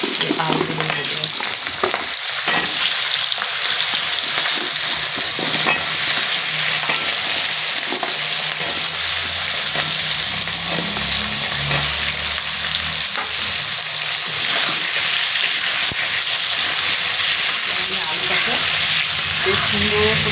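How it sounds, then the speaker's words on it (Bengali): Long potato strips frying in hot oil for a Bengali fish and potato curry, with a dense, continuous sizzle and crackle close by, steady and loud throughout, plus occasional soft stirring sounds and no talking. "বেশ সুন্দর করে লাল লাল করে ভেজে নেব।"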